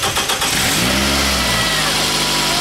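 A car engine is started during an oil pressure switch check: a brief cranking whir, then the engine catches and revs loudly before settling into a steady close idle.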